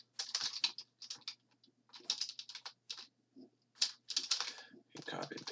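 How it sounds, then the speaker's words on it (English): Typing on a computer keyboard while filling in a truth table, with bursts of quick key clicks separated by short pauses, close and fairly faint, alone without talk. "It's just neater if I type it all out."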